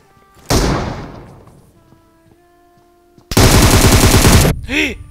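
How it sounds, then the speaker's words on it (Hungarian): Grenade explosion in the battle royale game PUBG: a sharp loud blast decaying over a few seconds, then a dense burst of rapid gunfire, with game sounds between. "Nem, ez gránát volt."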